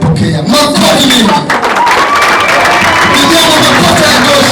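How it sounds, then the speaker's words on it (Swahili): A packed youth conference audience applauds loudly and steadily to welcome the president, with cheering and whoops mixed into the dense clapping all the way through. "Makofi mengi."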